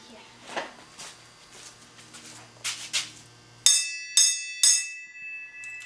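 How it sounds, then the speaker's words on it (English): Three bright metallic rings of a bell follow each other quickly and loudly, each ringing out for a moment. People talk beforehand. "you want to ring the bell?"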